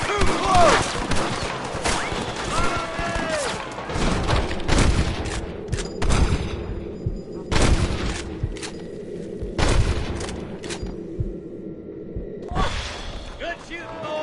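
Western gunfire in Red Dead Redemption on PS4: repeated loud shots and volleys, with bursts of rapid fire and glass shattering, near and intense, while characters shout over the fight.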